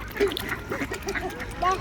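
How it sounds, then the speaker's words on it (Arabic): Geese honk and cackle in short overlapping calls close by as they are fed, mixed with a person's voice speaking over them. "خد يا وزة."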